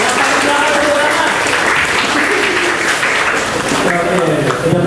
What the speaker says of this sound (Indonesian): Tepuk tangan dong untuk kalian semua yang paling keras dan penuh.